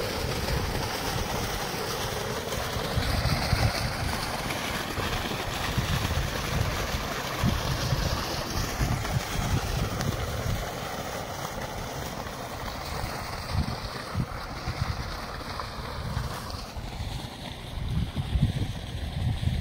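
Water gushes steadily from the outlet of a 5 HP solar pump on a farm, a loud, continuous rushing splash that holds for the whole stretch with no talk.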